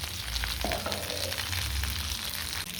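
Kerala-style mackerel pollichathu frying in a pan, a constant dense sizzle with a low rumble underneath and a brief scrape midway, close and steady, no talking.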